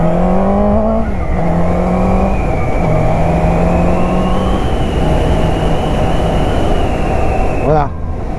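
A 2019 Suzuki GSX-S 750 A2 motorcycle idles and revs gently at low rpm, a steady close engine drone with rising and falling pitch through a small throttle blip, ending in a brief shift near the close.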